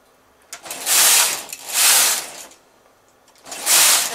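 A knitting machine carriage makes three loud, rushing swooshes as it is pushed back and forth across the bed, with short quiet pauses between passes.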